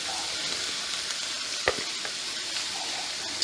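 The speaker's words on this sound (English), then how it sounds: "Now I'm going to finish adding the rest of my cabbage" Shredded cabbage sizzles steadily as it goes into a hot skillet, a constant close frying hiss with a few sharp crackles and a short clatter of stirring partway through.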